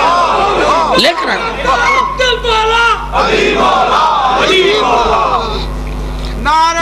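A large crowd at a religious majlis at Qadam Gah Moula Ali in Hyderabad, Sindh, shouts slogans together in loud, overlapping bursts that fill the space and rise and fall throughout.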